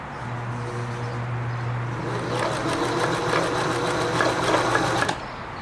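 A Singer Stylist 522 sewing machine stitching a test seam, a steady rapid mechanical whir and needle clatter that runs loudly for a few seconds, then stops abruptly, with faint hum before and after.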